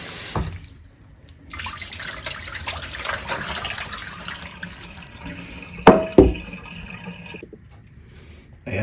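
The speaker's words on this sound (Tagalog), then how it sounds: "Hugasan ko po palang mabuti kasi yung chanterelle may mga buhangin." Wild chanterelle mushrooms are washed under a running tap to rinse out sand, with water splashing and gurgling into a sink, brief clatters of handling, and a couple of sharp knocks near the end.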